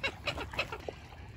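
A duck quacks a few times in short, bright bursts, fairly close, with light outdoor background noise and no talk.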